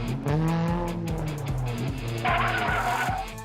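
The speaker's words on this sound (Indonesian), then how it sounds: "Suara apa itu? Apa itu mobil?" Car driving past with engine roar and a tire squeal, a short loud pass with pitch sweeping, close and alone without voices.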